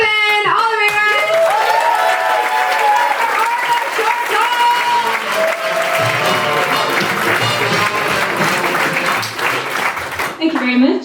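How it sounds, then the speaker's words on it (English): A live audience at an evening show in Glasgow claps loudly and steadily for about eleven seconds, with voices and whoops mixed into the dense, continuous applause. "1, 2, 3, 8, start clapping! All the way around!"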